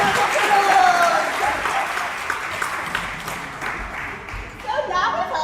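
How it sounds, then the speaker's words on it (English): A crowd at a funeral gathering gives the band a sustained round of applause, with dense clapping that swells early, then settles and keeps going to the end. "Round of applause."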